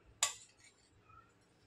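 A spoon mixing dadpe pohe, flattened rice seasoned with a spiced tempering, knocks once against the bowl in a bright, close clink. A couple of faint softer taps follow in otherwise quiet surroundings.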